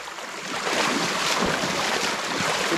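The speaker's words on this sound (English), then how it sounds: "There's some water pouring through there, you guys." Water pouring through a partly removed beaver dam in a creek, a steady broadband rushing flow that swells louder after a moment and continues without talk, with some wind on the microphone.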